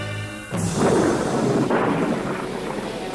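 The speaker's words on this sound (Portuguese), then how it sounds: "Na superfície, uma tempestade repentina açoiteou o oceano." A sudden storm breaks over the ocean as thunder cracks after a tonal music passage, then rolls and rumbles heavily for several seconds with a second swell before easing.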